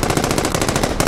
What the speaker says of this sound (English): The gunfire is still there.